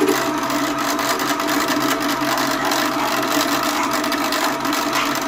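A drill press milling metal runs continuously, a loud steady motor whine mixed with gritty cutting chatter, holding an even level throughout with no pauses.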